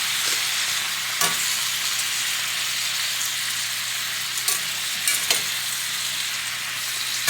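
Squash and onions cooking in a skillet give a steady, close hiss of frying with a few brief clicks of a utensil, no voices heard.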